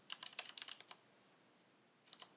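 Quick bursts of typing on a computer keyboard: a rapid run of about a dozen close, crisp key clicks, a pause, then two more taps, quiet and alone.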